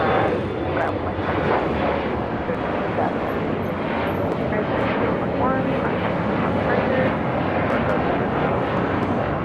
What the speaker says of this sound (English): This is Alaska Horizon 2021, taking off to Bozeman on an E175.